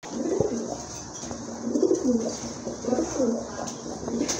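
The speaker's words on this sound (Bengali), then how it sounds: "আরেক জোড়া কবুতর নিয়ে আসছে ভাইয়া, দেখতে পাচ্ছি ড্যান্সিং, এটা নতুন জাত ড্যান্সিং কবুতর" Dancing pigeons, a new breed, cooing in low repeated throaty bursts close by, with faint chirps and background noise and no clear talk.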